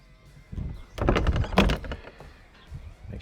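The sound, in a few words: door of an old church being closed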